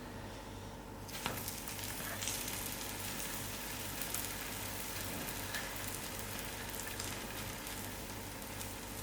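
Oil sizzles steadily under a lamb mince stuffed roti frying on a hot tawa, a dense continuous crackle that starts after a brief quieter moment and holds evenly throughout, with no talk.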